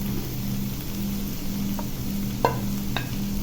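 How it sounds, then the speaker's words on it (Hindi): Chopped cabbage added to softened vegetables frying in a pan, giving a steady close sizzle with a low hum underneath and a few light clinks of a utensil. "तो अभी मैं इसमें ये डाल देती हूँ बंद गोभी।"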